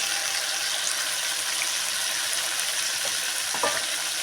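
Ground spices such as turmeric hit hot oil in a pan while cooking, giving a steady, close, even sizzle throughout with a few faint stirring clicks near the end.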